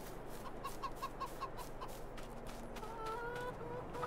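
Chickens on a farm in Farming Simulator 22 cluck in a quick, soft series of short notes, then give a few longer drawn-out calls over a steady low background hum, fairly faint and nearby.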